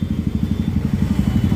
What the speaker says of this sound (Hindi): उधर जो बाइक है उसका एग्जॉस्ट नोट सुनो यार, आवाज मस्त है भाई